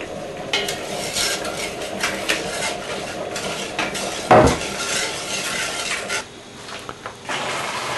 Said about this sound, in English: Stir it till it's dissolved into the water.